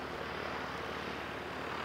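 A fixed-wing aircraft roars steadily and loudly on the runway as it lands, a dense engine drone with no pauses and no voices.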